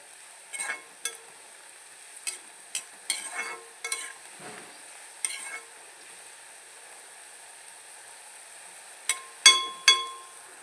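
Crushed ginger and garlic frying in hot oil for a Kerala fish pickle, with scattered short bursts of sizzling as the pieces are stirred and scraped, separated by quiet pauses and ending in a few louder spatters.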